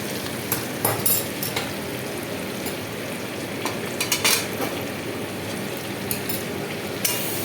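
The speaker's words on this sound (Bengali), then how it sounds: "এবার ভালো করে এটাকে নাড়িয়ে চাড়িয়ে এটাকে কষাতে হবে।" Spiced chicken for black pepper chicken being stirred and sautéed in a pan, with a continuous sizzle broken by repeated scraping and clinking strokes of a spoon against the pan.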